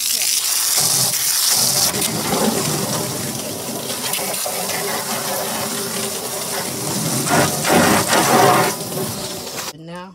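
Water gushing and splashing as a rain barrel is rinsed out, a steady broadband rush that continues loud throughout before cutting off abruptly near the end.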